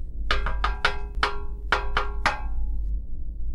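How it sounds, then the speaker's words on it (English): Secret knock on a door: seven sharp raps in a rhythmic pattern, quick taps then spaced ones, close and clear over a low background hum. "That's the secret knock."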